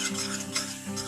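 A spoon stirs spices into dal in a pot with brief scraping, rubbing strokes and a faint sizzle, close and fairly quiet with no talking.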